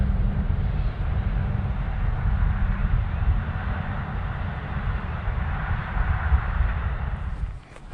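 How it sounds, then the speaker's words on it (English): A steady, loud low rumble holds for several seconds, dense in the bass, like a train passing nearby, then drops away abruptly at the end. "I think I hear a train."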